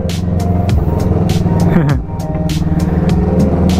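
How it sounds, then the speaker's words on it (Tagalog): A motorcycle idles with its exhaust pipe covered by a shoe, making a loud, steady, close engine drone that dips briefly midway, then settles back into its even rumble. "Tinatakpan ko ng sapatos ko yung tambutso ko."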